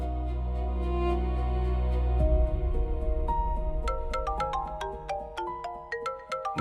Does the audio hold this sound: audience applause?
no